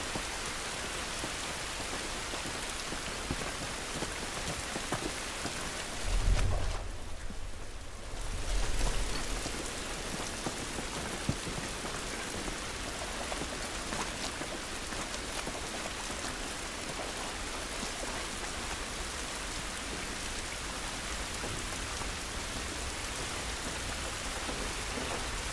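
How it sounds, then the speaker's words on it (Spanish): Heavy rain pours in a continuous loud wash in The Last of Us, while a couple of low thunder rumbles swell briefly near the start before the downpour carries on alone. "Esta lluvia no nos va a ayudar."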